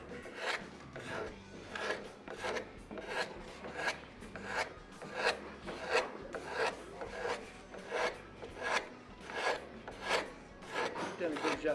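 Rhythmic rasping strokes of a sharpened scraper drawn along the grain of a wooden instrument neck in a workshop, about a dozen close, steady passes with brief gaps, no talking.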